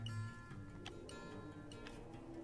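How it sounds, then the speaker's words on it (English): A clock ticking right beside the microphone, with about five crisp, evenly spaced ticks standing out clearly from a quiet room tone, faint and close, with no talking. "Do you hear the clock ticking? Let me put it next to the mic."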